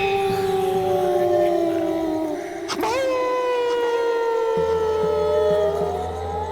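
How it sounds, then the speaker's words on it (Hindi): A dog howls in the distance, a long wavering cry that rises and falls over a steady low drone, used as a spooky effect in a dark, rain-soaked night scene with thunder. "कहीं दूर से कुत्ते के रोने की आवाज आ रही थी।"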